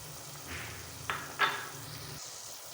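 Masala omelette mixture sizzling softly in a frying pan as eggs are added, a low steady crackle broken by two or three short sharp splashes close by.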